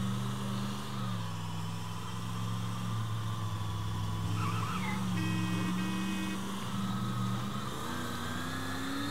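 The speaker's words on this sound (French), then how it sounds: "Elle a pas un gros bruit cette voiture." Car engine in the video game Mafia 3, a continuous mid-pitched hum with slight pitch shifts as the car speeds along, steady and moderately loud throughout with no talking.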